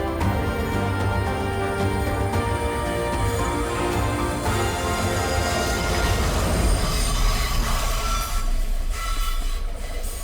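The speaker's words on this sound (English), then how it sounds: "Once the train has passed" A short train on a meter-gauge railway in Gruyère rolls past close by, with a steady rumble, rattling carriages and high metallic wheel squeal rising toward the end.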